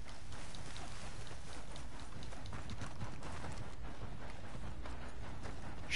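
Galloping hooves of a video game horse or donkey in a steady, continuous clip-clop rhythm, fairly close and moderately loud, with no voices over it.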